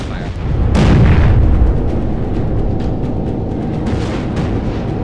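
An enemy ship fires its guns in the naval combat game Battle Stations Pacific, a loud deep boom followed by sustained rumbling explosions and crackling bursts filling the scene, with no talk.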